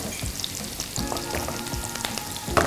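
Shallots sauté in oil for a Nile tilapia and eggplant curry, giving a steady close sizzle with occasional clinks and scrapes of stirring, and no voices.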